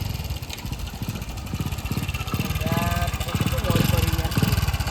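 A motorcycle engine idles nearby with a fast, even pulsing chug that grows slightly louder, while people talk over it.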